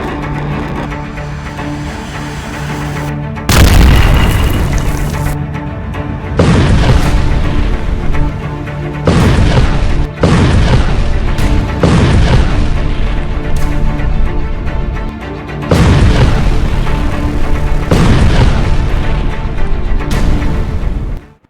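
Bomb explosions in Gaza, a series of about six heavy, loud booms with long rumbling tails, spaced a few seconds apart over steady background noise.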